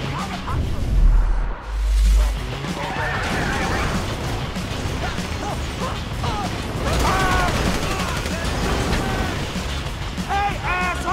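Gunfire erupts during a bank heist shootout in GTA V, loud, dense bursts and crashes packed together with whooshes and mechanical clatter, under occasional voices.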